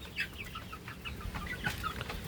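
Farm broiler chickens cluck in short, overlapping calls from several birds close by, over a steady low background rumble, with no talking.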